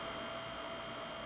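Heat tool blowing hot air onto a nail wrap during application, a steady loud whooshing hum held without a break for a couple of seconds, with no talking.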